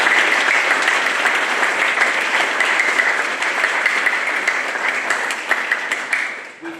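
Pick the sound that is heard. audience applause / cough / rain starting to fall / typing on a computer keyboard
audience applause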